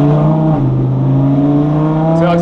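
A car engine pulls hard under acceleration, a loud, close, continuous droning hum whose pitch climbs slightly and holds steady for a couple of seconds.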